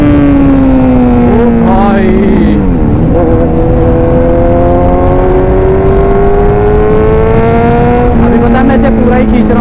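Kawasaki Z900 motorcycle cruising with a steady engine drone, pitch dipping around a gear change then settling, loud and close throughout with a rider's voice over it.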